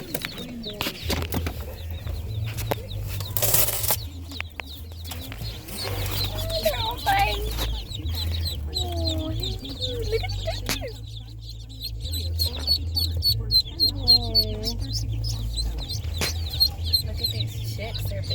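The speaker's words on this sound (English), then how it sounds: "Look at these chicks, they're big. What are they? These are leghorns." Newly hatched leghorn chicks peep from inside a shipping box, thin chirps scattered irregularly over a low steady hum, with some rustling and handling sounds throughout.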